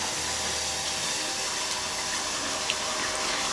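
Tap water runs steadily into a pan to make chicken stock from a bouillon cube, a continuous close hiss and splash filling the kitchen without pause.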